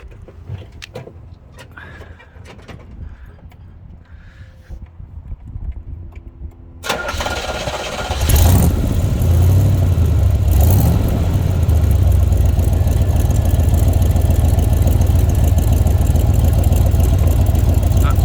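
After some quiet rustling, a 1963 Chevrolet Corvette Split Window engine with side pipes cranks and roars to life, then settles into a loud, rumbling idle that continues steadily.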